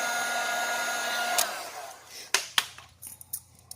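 A heat gun blows steadily on built-up vinyl wrap edges of an Arctic Cat snowmobile, then cuts off around the midpoint, leaving faint clicks and small handling taps nearby.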